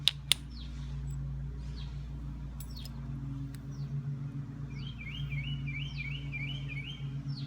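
A small bird chirps faintly outdoors, giving a few scattered calls and then a quick repeated trill near the end. The calls sit over a low steady hum, and a couple of sharp clicks sound at the start.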